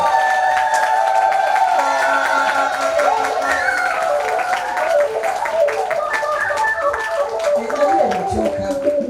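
A Swahili Sunday church congregation claps and ululates to welcome a preacher, a dense, sustained wash of hand claps and high trilling voices, with singing woven through.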